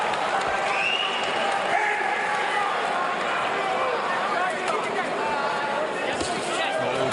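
An arena crowd at the Vitali Klitschko vs Dereck Chisora boxing match roars in reaction to punches, a dense, continuous swell of cheering and chatter with commentators talking over it.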